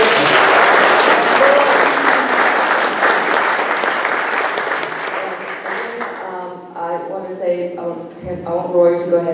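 Audience at a Beaches Watch community meeting applauds steadily for about six seconds, a dense wash of clapping that fades as a speaker begins talking over the tail end.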